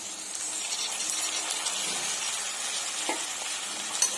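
Tomato, green chilies and curry leaves frying in ghee with whole spices for ghee bagara rice, giving a steady close sizzle with light stirring and a brief clink near the end.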